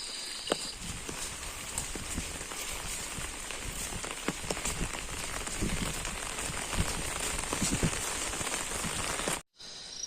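Heavy rain falling outdoors makes a dense, steady hiss with scattered close drops and patters throughout, cutting off briefly near the end.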